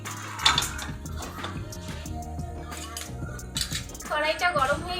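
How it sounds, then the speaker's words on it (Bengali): A metal kadai set down on a gas stove while cooking kochu shak with hilsa fish heads: several clattering metallic knocks and scrapes up close, ending in a louder burst of ringing clanks. "কড়াইটা বসিয়ে দিলাম"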